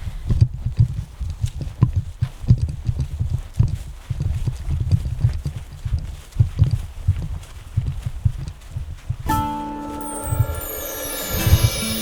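Horse hooves clip-clopping at a steady walk toward a stall on a homestead in arctic cold, close and continuous, with some brief mechanical clatter toward the end.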